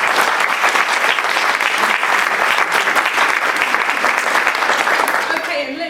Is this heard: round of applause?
yes